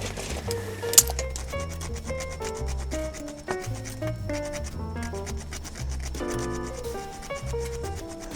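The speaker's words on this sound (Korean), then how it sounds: "이거를 갈아 넣어줘야 돼요." An ingredient is grated by hand into a dish for roast duck, cooked inside a cozy shelter on a cold rainy night; steady close scraping strokes run throughout, with one sharp knock near the start.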